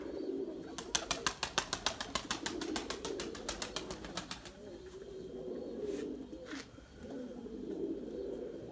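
Domestic pigeons coo in low, murmuring phrases while a quick run of sharp, evenly spaced wing claps rattles through the first half, then the soft cooing carries on alone.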